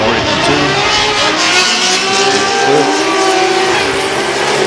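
A drift car at Formula Drift Japan accelerates hard on throttle, its engine note loud and sustained with rising, wavering revs and tyre roar, close and continuous, with a commentator talking over it.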